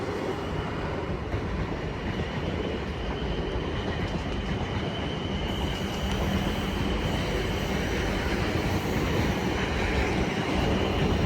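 A Class 444 electric train on a South Western Railway service to Portsmouth Harbour rumbles past at Clapham Junction, loud and close, a steady roar of wheels and rail noise throughout with no talk.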